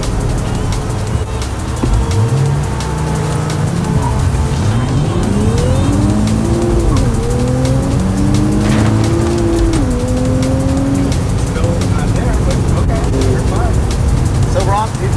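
A Nissan Z with a manual gearbox accelerates hard from 0 to 60, its engine note climbing through several gear changes with tire noise, loud and close throughout the run.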